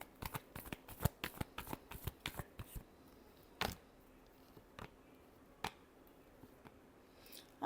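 Tarot cards being shuffled by hand, a quick run of crisp riffling flicks followed by a few sparse single snaps, close and quiet.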